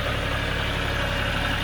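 Steady, unbroken engine drone from a John Deere 5055D tractor running a Krone 2801 mower through heavy second-cutting hay in November, a close, even rumble with no pauses or voices.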